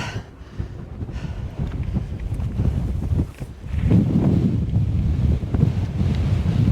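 Steady wind buffets the microphone outdoors in East Lothian, a low, rumbling roar that swells louder halfway through, with no voices.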